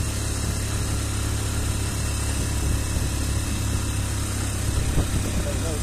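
A motorcycle engine runs with a steady low rumble close by while people talk over it.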